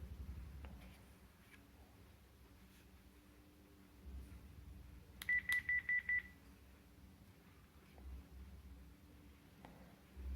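A Panasonic KX-TGD310 digital cordless phone handset gives a short run of sharp electronic beeps as it powers on after its battery goes in, clear above quiet room noise.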